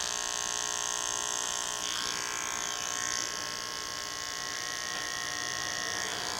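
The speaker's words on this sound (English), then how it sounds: "I'm working with the trimmer backwards" An electric T-trimmer cutting hair during a pompadour haircut on curly hair buzzes steadily up close, a bright continuous hum with slight shifts in pitch as it moves across the head.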